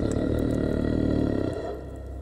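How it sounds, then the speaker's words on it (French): A very low, rumbling growl sound effect in a sasquatch encounter story, loud and close, sustained for about a second and a half before fading into a quieter rumble, with no speech. "j'ai entendu un grognement très bas."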